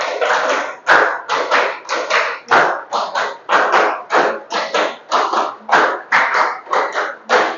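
A classroom of students clapping hands together in quick rhythmic groups, a steady run of loud, close claps for several seconds with no talking.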